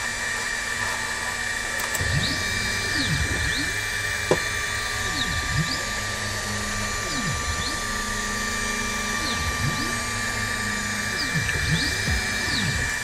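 An Elekslaser A3 Pro laser engraver runs its preview pass, stepper motors whining in repeated rising and falling sweeps over a constant steady hum, fairly loud and close, with no talking.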